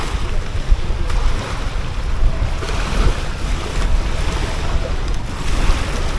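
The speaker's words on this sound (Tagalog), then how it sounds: "malakas ang hangin." Strong wind blusters at a seaside pier in Tanza, Cavite, roaring steadily across the microphone over the wash of waves, loud and continuous with no talking.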